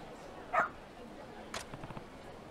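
A stray dog in the video game Like a Dragon: Ishin! gives one sharp bark, followed later by a few soft, short yips and whimpers at moderate distance.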